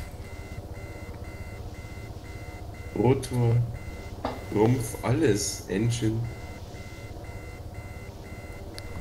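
Helicopter damage warning beeps in Arma 3 pulse in a steady rhythm throughout, moderately loud, while someone talks over them in several short phrases.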